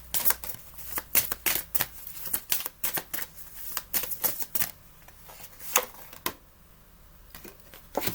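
Oracle cards shuffled by hand in a run of quick, crisp riffling bursts, fairly close and moderately loud, with no talking over them.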